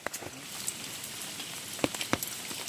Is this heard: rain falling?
yes